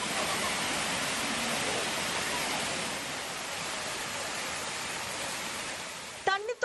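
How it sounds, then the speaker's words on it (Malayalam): Manneera waterfall in Thannithodu panchayat, fed by streams from the Manneera forest, gives a steady, full rushing roar of falling water that holds throughout, with a voice starting to speak at the very end. "തണ്ണിത്തോട് പഞ്ചായത്തിലാണ് മണ്ണീറ വെള്ളച്ചാട്ടം."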